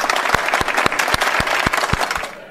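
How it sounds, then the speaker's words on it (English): A short applause sound effect: a steady run of sharp, evenly spaced claps layered over a bright crowd-clapping wash, loud and close, tapering off at the end. "I'm going to give her clapping sounds"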